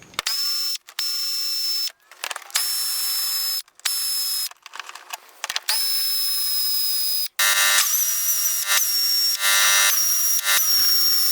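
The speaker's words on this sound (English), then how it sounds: "thank God for air tools. And these are all 10mm bolts." Pneumatic air tools spin off 10mm bolts on a 2005 Infiniti G35 cowl: repeated loud bursts of high whirring, each a second or two long, separated by short pauses, ending in a longer sustained run, with no talking.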